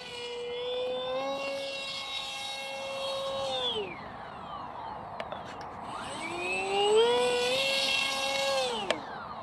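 Electric motor and propeller of a Modster Easy Trainer 1280 V2 radio-controlled airplane performing loops, a rising and falling whine that drops sharply, pauses, then climbs again as the model passes, fairly close and alone.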